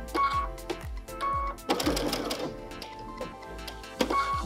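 Sewing machine stitching fabric for machine appliqué with a standard foot, running in short repeated bursts of rapid mechanical clatter separated by brief pauses, close and clear.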